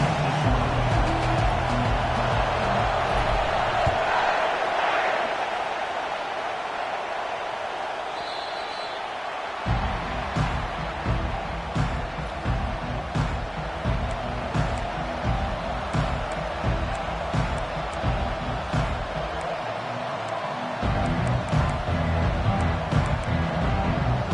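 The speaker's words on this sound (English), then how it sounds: "This crowd bringing an ear-splitting welcome to their visitors." Stadium crowd at a Notre Dame football kickoff roars in a sustained, distant wash of cheering that dips and swells, with a low rumble and brief bursts of noise throughout.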